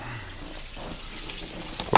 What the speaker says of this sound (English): I'll add the water once I've done that.